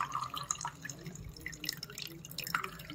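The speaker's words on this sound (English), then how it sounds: "Lot of water is filling and coming out from our plate." Rainwater drips through a model filtration plate, making quick, irregular drops and small splashes over a faint trickling background, close and fairly quiet.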